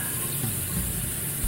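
Water runs steadily from a newly installed bathroom faucet, a continuous close hiss and splash with no talking.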